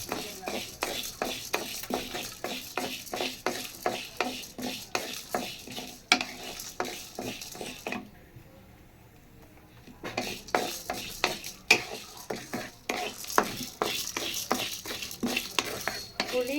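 Tamarind, chana dal, urad dal, dried red chillies, asafoetida and dried drumstick leaves are dry roasted in a pan: a close, regular scraping rhythm of stirring strokes that pauses for about two seconds, then resumes.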